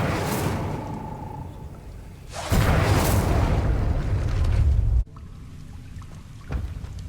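A fiery Incendio spell blast from the Hogwarts Legacy video game erupts as a loud, roaring burst that holds steady for a few seconds, then cuts off sharply, with quieter whooshing game ambience before and after.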